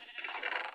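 A single sheep bleat from a video game, a short nasal wavering call lasting under a second, fairly faint and alone.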